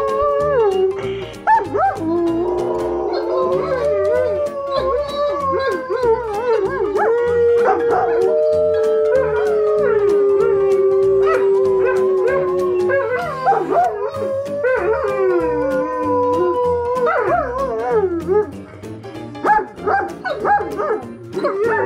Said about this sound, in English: Howling, Frank.